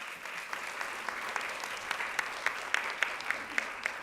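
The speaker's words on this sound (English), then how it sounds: "Yeah, yes, we can clap." An audience at a fall college convocation claps, a fairly faint, even patter of hands with a few sharper claps standing out, and no talk over it.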